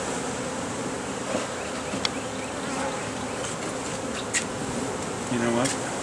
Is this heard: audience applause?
no